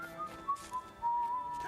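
A video game character whistles a casual, nonchalant tune, short clear notes rising and holding in a brief melodic phrase over faint background sound.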